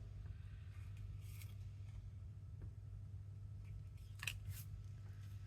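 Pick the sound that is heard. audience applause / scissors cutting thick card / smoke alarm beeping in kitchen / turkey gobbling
scissors cutting thick card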